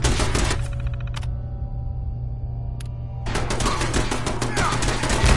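An automated turret in Fallout 4 fires in rapid machine-gun bursts: a loud rattling volley, a pause with a single crack, then another long, dense burst near and sustained to the end.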